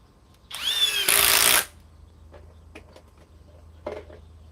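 A Flex quick eject impact driver spins up close and loud in a burst of about a second, its whining motor rising then ending abruptly, followed by a few faint clicks and taps.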